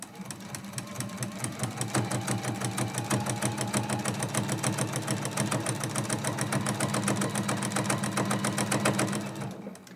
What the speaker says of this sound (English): So I just sew right off of the edge and then turn everything around and then come right back down the other side